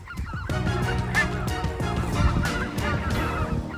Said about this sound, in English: Millions of snows, blues, specklebellies, and Canadian geese fill these Canadian skies each fall.